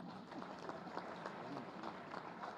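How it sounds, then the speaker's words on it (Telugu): An audience claps together at a gathering, a fairly faint, dense patter of many hands that holds steady for a couple of seconds. "సో వాళ్ళందరికీ ఒకసారి చప్పట్లు కొడదాం మనం."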